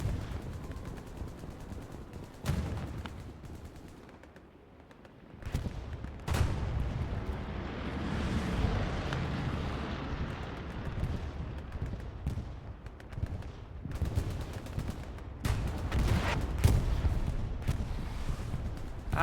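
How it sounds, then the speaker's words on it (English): Katyusha rocket artillery strike in the WWII shooter Hell Let Loose, Stalingrad map: a rolling barrage of loud, heavy explosions booming one after another with sharp cracks and rumbling aftershocks for the whole stretch. "Here comes the next Katushka strike."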